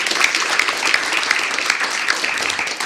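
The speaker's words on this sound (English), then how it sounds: "I want to give a round of applause first for Professor Kucher moderating this panel." Symposium audience giving the panel moderator a round of applause, dense sustained clapping from many hands, close and loud throughout.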